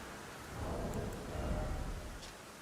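Rolling thunder from a lightning storm in the video game Elden Ring, a low continuous rumble that swells midway over steady rain-like noise, loud and enveloping.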